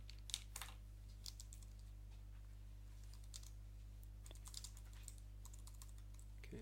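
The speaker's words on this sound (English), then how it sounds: "I can actually type this, I think." Fingers tap a computer keyboard in quiet, scattered bursts of light clicks, close and faint, with short pauses between runs of keystrokes and no talking.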